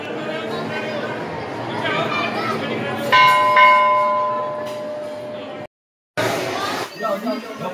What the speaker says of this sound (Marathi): या ठिकाणी पाहू शकता एकदम मोठी घंटा आहे